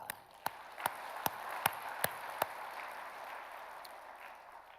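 A church congregation at a revival service claps in a slow, evenly spaced rhythm, about seven sharp claps over faint room background, fairly quiet and distant.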